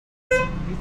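A motorbike horn, just repaired, gives one loud, sharp honk after a short silence and rings on briefly with a buzzing, steady tone.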